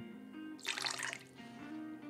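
A short splash of E&J brandy is poured into a French toast custard mix, giving a brief soft liquid gurgle that lasts about half a second over a quiet room hum.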